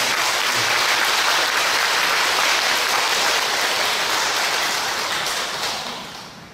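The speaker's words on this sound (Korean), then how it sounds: "뜨거운 격려의 박수 한번 보내주십시오." Warm, sustained applause from a congregation at a Won Buddhist temple service, dense and steady, fading out near the end.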